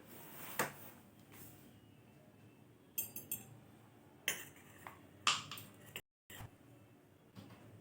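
A metal spoon gives several sharp, isolated clinks against a bowl while baking powder is added to an eggless sponge cake batter, faint and close in an otherwise quiet kitchen.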